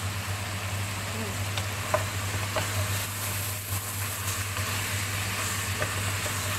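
Onion dropped into meat frying in a pot gives a steady, close sizzle with faint crackles and a low constant hum underneath, no voices.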